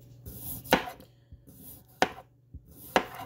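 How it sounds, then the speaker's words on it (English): Knife slicing thin rounds of unpeeled potatoes, giving three crisp, evenly spaced chops against a cutting board, close and fairly loud, with softer scraping between strokes and no talking. "It's just so much easier to start slicing your potatoes"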